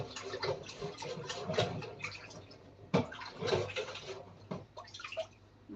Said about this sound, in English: Hang on, I'll just stick it in with some water.